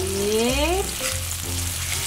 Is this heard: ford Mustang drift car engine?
no